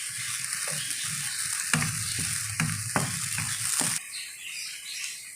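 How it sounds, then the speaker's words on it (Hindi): Tomatoes drop into hot oil with fried ginger and garlic, giving a steady close sizzle with several scraping stirs of a spoon in the pan before the frying quiets down. "अब मैं इसमें टमाटर डाल रही हूँ और मिक्स कर लूँगी।"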